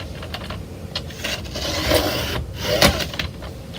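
Paper trimmer with a dull blade dragging through paper, a few short scraping, crunching cuts with light clicks and rubbing in between, close and moderately quiet.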